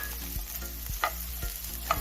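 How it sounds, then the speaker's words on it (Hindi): Sliced mushrooms are stirred in a pan with chopped onion and garlic, sizzling steadily while the utensil scrapes and clicks against the pan every half second or so, close up and without talk. "ये हो गया तो आई विल ऐड मशरूम्स"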